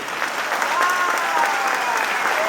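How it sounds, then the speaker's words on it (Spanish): Sustained audience applause at a closing campaign rally, dense and steady clapping from a large crowd throughout, with a faint voice buried underneath. "Aplaudámoslo a ellos, miren, aplaudámoslo primero a ellos."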